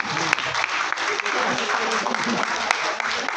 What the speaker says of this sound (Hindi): जोरदार ताली अपने आप के लिए